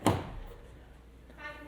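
Fuel door on a 2024 Mazda CX-90 SUV closes with a single sharp thunk at the start, followed by quiet outdoor background and a faint rustle.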